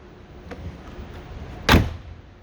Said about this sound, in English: And we'll close the door.